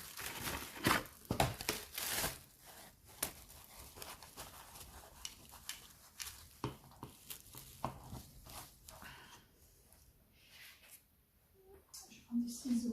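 Plastic cling film crinkles and rustles in repeated handling bursts, with sharper tearing and cutting sounds, while someone talks intermittently.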